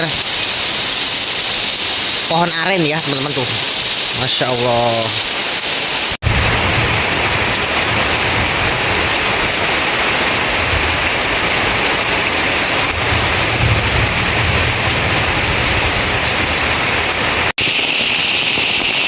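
Heavy rain pours down in a quiet village, a loud, dense, unbroken roar of water that runs on for many seconds after a brief stretch of someone talking at the start.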